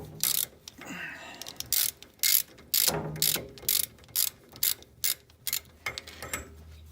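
A ratchet wrench works on the SR5 differential of a Toyota AE86, giving repeated bursts of close, crisp clicking in a steady back-and-forth rhythm with brief quiet pauses between strokes.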